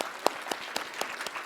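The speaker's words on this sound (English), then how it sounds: "So they get a special round of applause." At an awards conference, a sparse round of applause honors former board members: a handful of distinct claps spaced about a quarter second apart, quiet and a little distant, one sharper clap standing out near the start.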